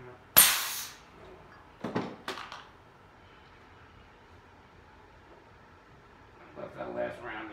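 A single sharp gunshot at a home shooting range, loud and close, followed by a couple of fainter metallic clacks and then a quiet stretch before a voice speaks.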